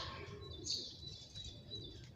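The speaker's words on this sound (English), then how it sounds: "beautiful sounds of cute birds" Small birds chirp and tweet in the morning outdoors, a few short high calls rising faintly over a steady low background hum.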